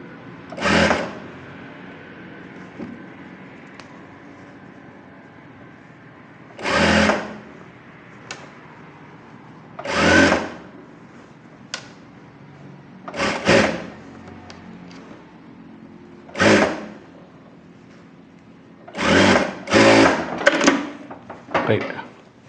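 A sewing machine stitches a frill onto a buff sleeve in about eight short, loud runs spread across the stretch, with a person talking in the quieter gaps between them.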